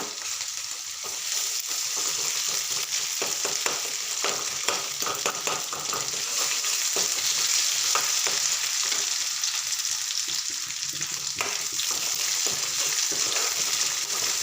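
Spices, garlic paste and fresh grated coconut frying in oil with onion for a green moong bhaji, a dense continuous sizzle with scattered crackles and pops, close and steady throughout, without voices.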